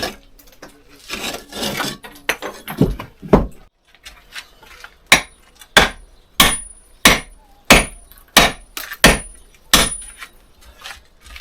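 During demolition work a hammer pounds wood in a run of about ten loud, evenly spaced blows, following some scraping and knocking earlier, close and without talk.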